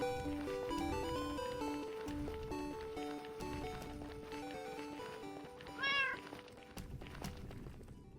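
A Minecraft cat gives a single meow near the end, rising over steady game music and ambient sounds.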